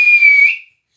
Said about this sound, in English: a man wearing a strange uniform blew a whistle